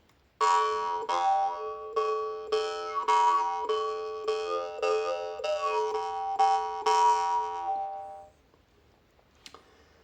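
A twanging, buzzing jaw harp plucked in repeated strokes, played for a deeper sound, about a dozen rhythmic notes with a deep resonant drone, then it stops, leaving near silence.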